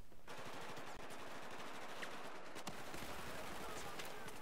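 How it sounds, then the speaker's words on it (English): Rapid machine-gun fire and explosions crackle in Battlefield 4 during a 64-player Domination match on a small map, dense and continuous with sharp bursts throughout, and a voice talking beneath. "A lot of projectiles, a lot of explosions, a lot of grenades, micro-destruction."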